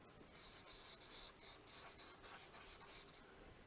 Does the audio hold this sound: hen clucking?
no